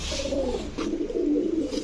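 A Rajshahi Giribaz pigeon gives a soft, rolling coo in two short phrases, fairly quiet and close, with no voices.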